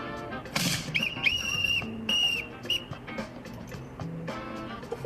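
A shrill whistle sounds in short bursts, sustained tones with breaks, over a busy background of music and noise.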